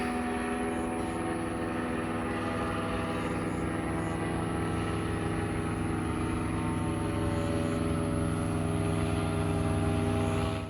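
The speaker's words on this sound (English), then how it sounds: "I could hear the lawnmower and the parachute above the house here" A powered parachute's small engine drones overhead above a house, a steady buzzing hum much like a lawnmower, continuous and moderately loud with a constant tone for the whole stretch and no voices.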